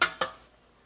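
A metal cake pan, an 11 by 15 by 2 inch pan, clanks twice in quick succession, two bright close knocks with short ringing decay, then quiet.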